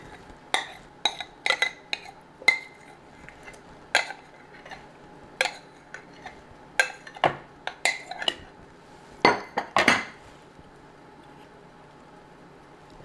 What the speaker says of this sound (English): I need to get a spoon to get that out.